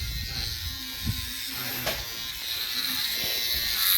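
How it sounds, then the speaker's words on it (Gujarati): Steady electric buzz of hair clippers running close by, with a few brief knocks and rustles as they move. "મશીનેથી વાળ કટિંગ થાય હો જોઈ લેજો"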